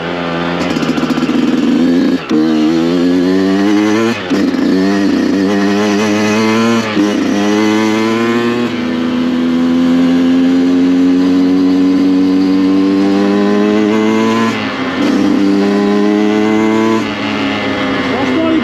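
An expensive motorcycle cruises along an avenue, its engine droning loud and close with rising and falling revs as gears change, steady throughout.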